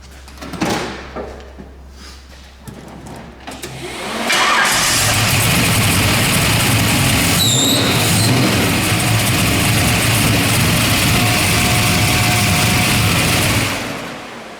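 A 1969 Chevelle with a 700 hp engine and a huge carburetor cranks after a few quiet clunks, then catches with a loud roar and settles into a steady, rumbling idle that runs on until a sudden cutoff.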